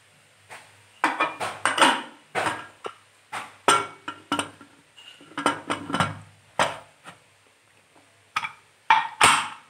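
Metal pressure cooker lid clanking and clattering shut over a pot of beef curry, a quick run of sharp, close knocks and scrapes with short pauses between them.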